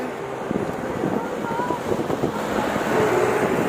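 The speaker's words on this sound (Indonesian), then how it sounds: "anginnya kenceng ya teman-teman ya" Strong wind buffets the microphone on the Kapuas riverbank waterfront at night, a steady low rumbling roar that swells louder toward the end, with a voice speaking faintly underneath.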